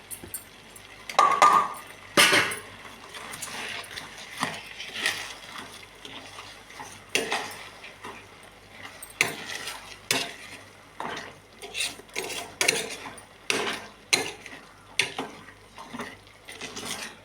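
Jaggery going into simmering semiya kesari in a pot, stirred with a metal spoon: repeated clinks and scrapes against the pot in an uneven rhythm, close by and fairly loud, with no talking.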